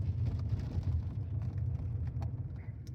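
Steady low rumble of a car rolling over a rough dirt road, with uneven thumps and jolts from bumps under continuous road and wind noise, fairly close and moderately loud, no talking.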